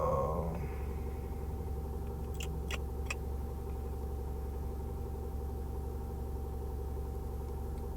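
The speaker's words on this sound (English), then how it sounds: "I'm sitting in my car on the way home." Steady low engine rumble fills a car cabin during a drive home, a constant close drone with a few faint high clicks partway through and no talking.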